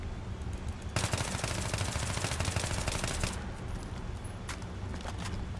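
Sustained full-auto burst from an AEK-971 assault rifle in Battlefield 3, a dense, rapid run of loud shots lasting a few seconds and then cutting off, followed by fainter scattered clicks and background noise.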